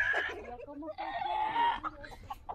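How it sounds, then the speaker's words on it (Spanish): A rooster crows nearby, a single loud, drawn-out call with a few clucking notes, heard on its own. "Es un gallo, amigos, es un gallo."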